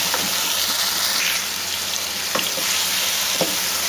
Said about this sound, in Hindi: अब यहाँ पे अब इसके अंदर हम ऐड करेंगे टमाटर और इसको हम करेंगे अच्छी तरह मिक्स।